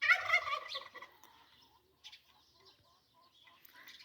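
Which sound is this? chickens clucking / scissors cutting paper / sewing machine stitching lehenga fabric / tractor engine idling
chickens clucking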